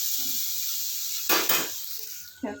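Red amaranth greens with shrimp sizzle softly in a pan under a steady hiss, broken by two brief louder bursts of stirring and utensil scrapes against the pan.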